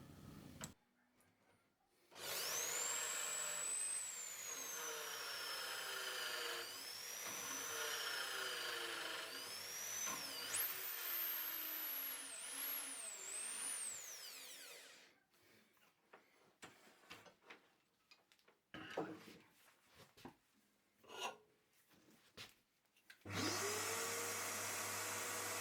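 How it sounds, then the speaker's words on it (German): A power drill bores a wider hole about 20 mm deep into a wooden workpiece in a woodworking shop, a loud sustained motor whine with shifting pitch for about thirteen seconds, followed by clicks and handling, then a second burst of drilling. "Zuerst eine etwas größere Bohrung, ca. 20 mm tief."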